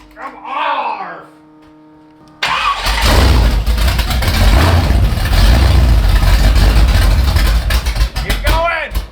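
A supercar V12 swapped into an 1980s hot rod cranks and catches, then roars into a loud, steady, close-up run, with a shouted voice before the start and more shouting over the engine.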